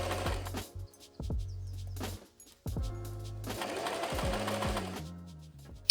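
A sewing machine runs in several stitching bursts along the hem of a blouse at a 1.5 cm seam allowance, starting and stopping with short pauses, close and fairly loud with no talk.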